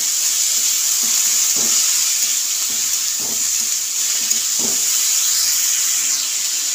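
Bottle gourd peel and potatoes stir-fry with turmeric under a steady hiss of sizzling oil, with a soft scrape every second or so as the pan is stirred, heard close and without voices.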